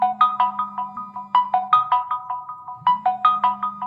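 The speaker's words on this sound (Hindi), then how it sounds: "आपके फोन में रिंग बजेगी।" A phone rings with a repeating melodic tone set off by a Fire-Boltt Invincible Plus smartwatch's find-phone feature, bursts of chiming notes over a steady low buzz, clear and close.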